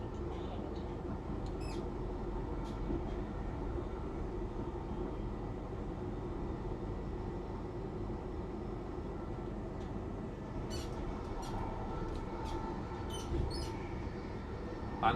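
Train on the Crewe to Holyhead line curving right onto a viaduct: continuous low rolling rumble of wheels on track, steady and moderately loud, with faint high squeals and ticks of flange contact on the bend.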